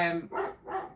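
Indoors, a dog barks twice in quick succession at moderate volume in the background, right after a trailing voice.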